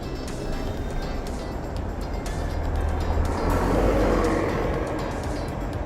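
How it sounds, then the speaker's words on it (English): A London double-decker bus passes at night on a city street, heard as a loud, steady low engine rumble that swells toward the middle and eases off, with continuous traffic noise around it and no talking. "here comes the double-decker bus"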